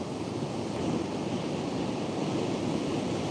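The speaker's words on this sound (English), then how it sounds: "Indeed, the waves are good." Ocean waves breaking on a crowded surf beach give a continuous broadband roar of surf with gusty wind noise on the microphone, steady and fairly loud throughout, with no voices.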